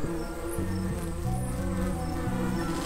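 Bees buzzing in the video game Tandem: A Tale of Shadows, a continuous droning hum with wavering pitch, steady and fairly close, with no speech.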